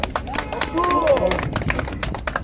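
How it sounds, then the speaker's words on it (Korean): Audience applause from a crowd at an outdoor rally in front of the Supreme Prosecutors' Office, a steady clatter of clapping lasting a couple of seconds with scattered voices and faint tones mixed in. "큰 박수 맞아주시죠"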